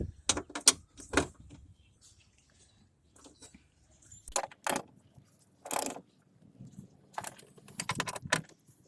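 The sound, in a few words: ratchet torquing down bolts on car window regulator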